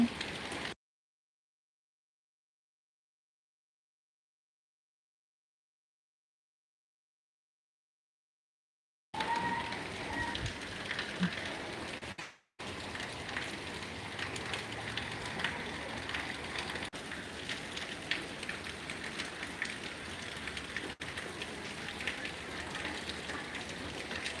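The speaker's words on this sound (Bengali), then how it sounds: "প্রচুর পরিমাণ বৃষ্টি হচ্ছে" Steady heavy rain in Noakhali, Bangladesh hisses across a broad band, with no voices, after an opening stretch of near silence.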